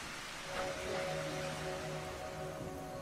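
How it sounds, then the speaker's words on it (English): Steady rain falling, a continuous wash of hiss and patter with no distinct drops standing out, holding even throughout. "Towards evening, it started to drizzle and soon turned into a heavy rain."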